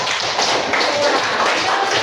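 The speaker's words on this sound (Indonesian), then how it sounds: "tepuk tangan untuk kelompok 2" Students in a classroom during a coding lesson clap for a group, a dense steady patter of many hands filling the room continuously from start to finish.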